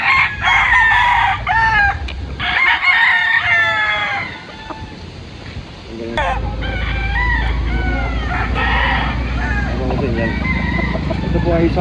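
A kanawayan crossed with Boston stag, a young rooster, crows several times up close with strained, uneven calls. Other fowl cluck around it, and steady farmyard noise plays underneath.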